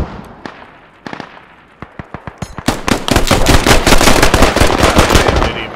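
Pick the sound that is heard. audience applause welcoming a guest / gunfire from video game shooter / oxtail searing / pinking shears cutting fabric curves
gunfire from video game shooter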